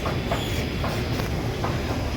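A Delhi Metro train rumbles along in a loud, steady roar with faint rhythmic clacking, heard from inside the carriage with no one speaking.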